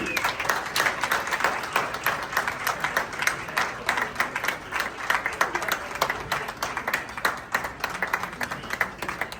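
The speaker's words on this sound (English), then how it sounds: "please help me with a resounding round of applause to congratulate our recipient, Kofi Darko, KOD." An audience applauds an award recipient at a formal ceremony. The clapping is sustained, dense and even, with a crowd's worth of hands filling the room for nearly ten seconds and no voices over it.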